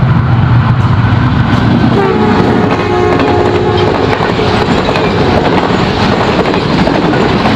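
An express train on an Indian railway line passes close by with a loud, steady rumble of wheels and carriages, and a sustained horn sounds through the middle of the passage.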